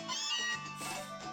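Alolan Meowth's cry from Pokémon Moon, a short, close, nasal meow that rises and then trails off in a second bending note.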